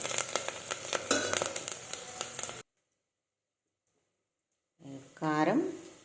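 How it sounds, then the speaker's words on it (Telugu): Ingredients frying in oil in a pan, a close sizzle with stirring clicks that stops abruptly for a couple of seconds, then a voice speaks over it. "ఇదంతా బాగా గోలాలి. ఆయిల్లో గోలాలి."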